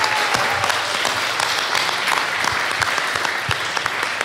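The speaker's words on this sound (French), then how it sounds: "on peut partir sur des gros applaudissements" Loud, dense applause from a crowd at a live podcast event, steady clapping filling the whole stretch without pause.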